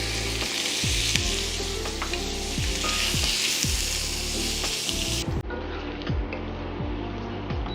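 Bacon sizzles steadily in a pan for a meat lovers pizza, with a dense, continuous crackle and spatter close up and occasional scraping or stirring knocks throughout. No one speaks.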